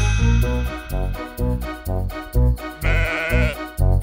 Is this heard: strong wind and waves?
no